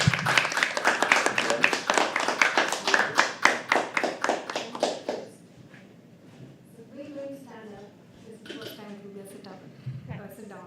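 Open mic poetry night audience clapping as a performer walks to the stage: a lively burst of rhythmic claps for about five seconds, then dying away into quiet room chatter.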